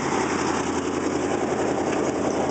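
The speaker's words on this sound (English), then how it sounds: "you're gonna hear a hell of an exhaust leak" A 1988 Chevy R30 crew cab dually ramp truck with a 454 TBI engine idles up close, its worn exhaust leak adding a steady, raspy rumble throughout.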